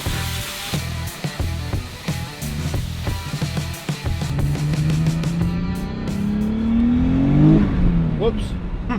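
A 400HP Nissan 300zx launches with wheelspin, its engine revving hard in choppy bursts before climbing into a long rising wail as the tires spin, close and loud, then cutting off abruptly.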